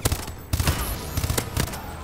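ARX-160 rifle firing three-round bursts in Call of Duty: Advanced Warfare, several quick clusters of sharp loud shots in rapid succession, punchy and close with no talking.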